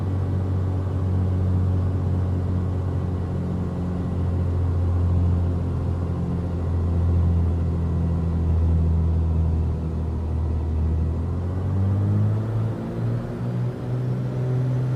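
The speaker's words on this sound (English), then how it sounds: "It almost sounds like a 18-wheeler, Bats, when I give her full throttle" The Black Square Grand Duke twin-engine piston aircraft in a flight simulator runs at full throttle, a loud, steady, deep droning rumble with a slight pitch rise near the end.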